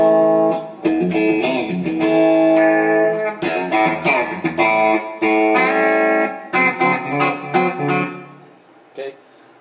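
A 1987 Alvarez electric guitar played through effects, loud distorted chords and riffs with some chorus shimmer, ringing steadily and then breaking into choppier strums before fading near the end.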